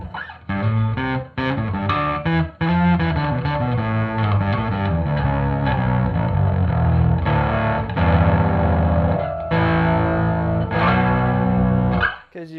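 Bass guitar played through an EarthQuaker Devices effects pedal with overdrive kicked in, giving a thick, distorted, chorus-like sustained tone across a continuous loud riff with brief breaks between phrases.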